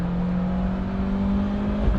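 Four-cylinder engine of a first-generation Honda Integra revving hard toward 7,000 RPM, a loud, steady, close droning whir that holds for two seconds with no voices over it.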